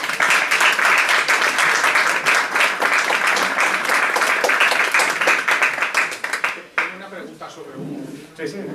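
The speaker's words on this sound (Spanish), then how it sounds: "Un aplauso." An audience at a presentation breaks into dense, loud applause that carries on for several seconds, then fades out as a voice begins speaking.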